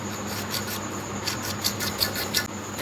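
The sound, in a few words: cutting PVC pipe at a 45 degree angle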